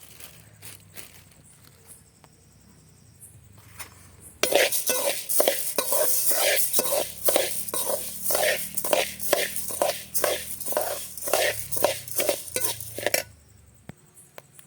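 Samba wheat and native wheat are stir-fried together in a pan: after a quiet stretch, a loud run of rapid, rhythmic scraping and rattling grains under a spoon, with a light sizzle, then it stops abruptly.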